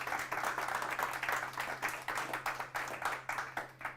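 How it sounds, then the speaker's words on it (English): An audience at a decentralized finance talk gives a speaker a round of applause, a moderately sized crowd clapping steadily in overlapping bursts that stay even in loudness, with a faint electrical hum underneath. "how about a big round of applause for the CMO of Krypton Labs"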